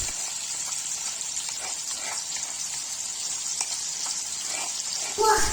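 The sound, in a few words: sautéing ground sambal chili paste in a pan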